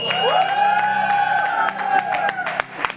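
A group at a bachelor party cheers loudly for a toast, with sustained whooping and shouting close by and a few sharp claps and clinks rising through the crowd noise.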